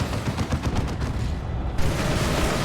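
Frenzied barrage gunfire in the Warhammer 40k strategy game Dawn of War 2, a dense, continuous rattle of rapid shots that stays loud and steady throughout, with a brief sharper burst toward the end.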